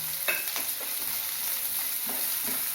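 Onions and garlic sautéing in a pan with a little salt for a curry leaf pepper garlic kuzhambu, a soft continuous sizzle broken by a few light stirring scrapes.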